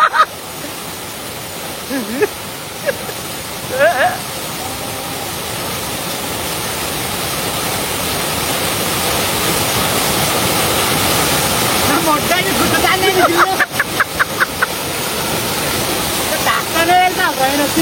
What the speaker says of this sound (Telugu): మల్లన్నగండి వాటర్ ఫాల్స్.